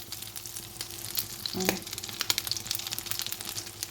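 Waffle cones packed with a canned fish and rice filling fry in a pan, giving a steady, close crackling sizzle with scattered pops and a brief clink partway through, no voices.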